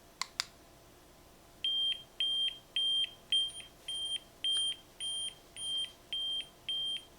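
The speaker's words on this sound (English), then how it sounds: "It makes an audible alert, a nice quiet beeping, not quiet, but a nice pleasant, I should say, beeping noise." A Sideclick remote finder sounds its alert: two quick clicks, then a run of about ten evenly spaced, bright electronic beeps. They are clear and fairly close in a quiet room.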